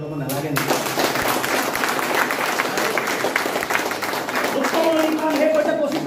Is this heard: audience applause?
yes